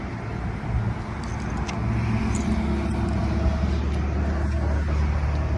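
Heavy-duty Dodge Ram 2500 rental pickup with a 6.4-liter Hemi V8 cruising on the road, a steady low engine and road-noise drone heard from inside, loud and continuous with no talk.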